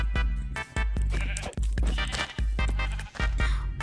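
Sheep in Minecraft bleat repeatedly in a fast, loud series of wavering cries, several calls in a row with brief gaps, close and alone with no talk.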